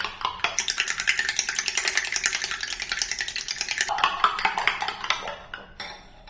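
Beaten eggs being mixed with salt in a bowl, with steady, rapid scraping and clinking of a utensil against the bowl that runs throughout and then tails off near the end, heard up close with no talking.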